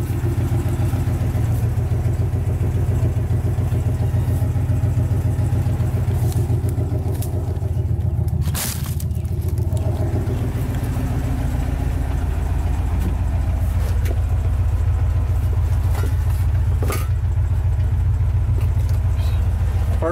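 A 1967 Dodge D200 pickup truck, a field find brought back to life, runs with a steady low engine rumble close by, its tone shifting slightly deeper in the second half, with a brief clank midway.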